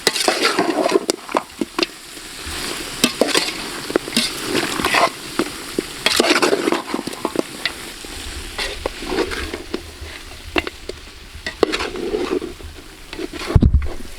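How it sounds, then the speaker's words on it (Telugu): Village-style country chicken curry masala frying in oil, a close, busy sizzle with frequent scraping stirs and ladle knocks against the pan, a low rumble joining in the second half, no talking. "మనకి ఇప్పుడు ఇది ఆయిల్లో కొద్దిగా ఫ్రై అయ్యి ఉడుకుతుంది"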